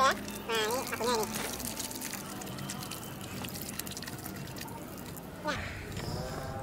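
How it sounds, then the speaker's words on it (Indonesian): Running water splashing over hands at a fruit farm tourist site in Semarang, a soft continuous trickle under nearby talking voices. "Ya, cuci tangan dulu. Pakai air mengalir."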